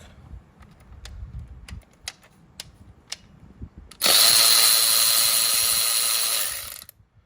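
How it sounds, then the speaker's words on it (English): A Snap-on electric cordless ratchet breaks loose a bolt that a Milwaukee ratchet had tightened, giving a sustained whirring motor buzz of about three seconds after some faint clicks and handling noises. "now we're gonna see if the snap-on will break it loose after the Milwaukee has tightened it"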